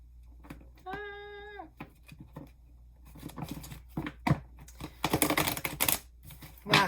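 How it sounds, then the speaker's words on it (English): Tarot cards being shuffled, a run of quick papery clicks and riffling patters that build into a dense flutter near the end, close up, preceded by a short tonal sound. "All right, let me finish shuffling"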